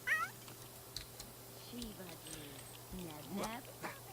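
A cat in The Sims 3 gives a few short meows amid quiet game ambience, with soft clicks and someone talking faintly between them.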